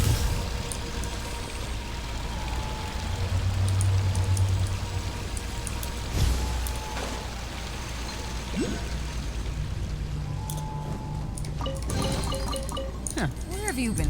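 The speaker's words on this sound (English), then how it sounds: "it's like a brine waterfall" A brine waterfall pours continuously in a video game, a steady splashing rush of liquid running under someone talking throughout.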